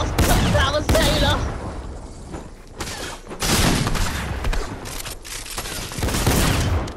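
Gunfire in the video game Fortnite, dense rapid shots and bursts of fire filling the scene nearly continuously, loud and close, with a voice talking faintly underneath.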